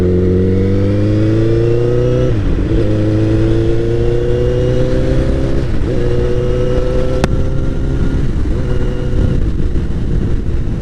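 A Honda CBR1000RR Fireblade sportbike fitted with a Two Brothers exhaust revs loudly and close, its engine climbing and dropping in pitch several times, with a sharp crack partway through.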